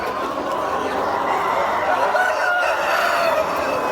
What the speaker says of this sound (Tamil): எல்லாமே தாய்க்கோழி தான் மக்கள்